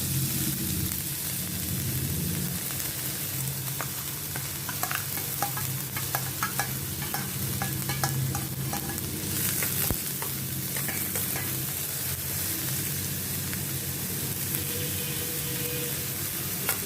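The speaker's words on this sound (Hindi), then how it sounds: "इसको प्याज और हरी मिर्ची को मैं थोड़ा सौटे करती हूँ, जैसे इसका कच्चापन निकल जाए।" Chopped onion and green chili sauté in a pan, a continuous soft sizzle with repeated spatula scrapes and taps, close up and fairly quiet, no talking.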